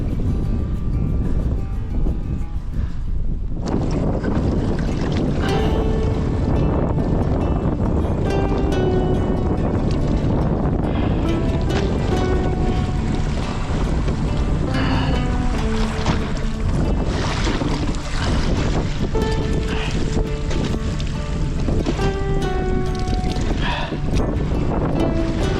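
Strong wind buffets a kayak out on choppy, whitecapping water during a bass-fishing trip, a steady loud roar of gusts and splashing that never lets up.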